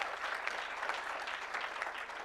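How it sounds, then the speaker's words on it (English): Audience applause fills a summit hall after a panel discussion, a dense, steady patter of many hands clapping at moderate volume throughout with no voices over it. "Let's give them a round of applause"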